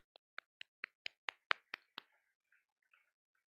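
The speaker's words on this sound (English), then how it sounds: "Please join me again in a big round of applause for our distinguished speakers and" Handclaps at a climate and sustainable-development conference session, about nine crisp evenly spaced claps that fade into a few scattered softer ones, quiet and with no talking.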